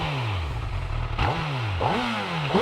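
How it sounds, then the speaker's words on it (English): Honda CB1000R 2024 Black Edition motorcycle engine cranking over and catching, then settling into a steady, close idle with a couple of quick revs and throttle blips rising and falling. "I'm going to start up the bike again, and just in case you didn't hear the bike earlier on, I just want to start it up."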